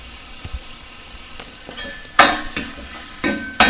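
Potato bhaji is stirred in a frying pan, a spoon scraping and clinking against the metal in several sharp bursts over a low sizzle, with no one talking.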